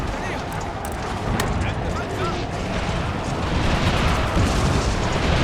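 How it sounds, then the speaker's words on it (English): Artillery fires in the Empire: Total War battle game, a dense continuous roar of distant booms and cannon blasts over broad battle noise, with a voice talking faintly over it. "Oh, they do have artillery."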